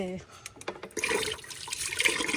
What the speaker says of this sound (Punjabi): ਮੈਂ ਹੱਥ ਧੋ ਲਾਂ ਟੂਟੀ ਤੇ